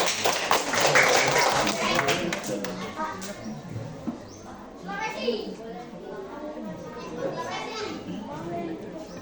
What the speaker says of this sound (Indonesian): Oke, kasih aplaus buat kelompok Jawa.